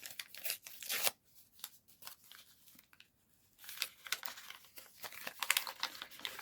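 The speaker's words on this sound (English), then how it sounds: "Oh, let me rip it." Paper being torn and crumpled while making a junk journal envelope, a series of close, crisp rips and crinkles in irregular bursts with a brief quiet pause midway.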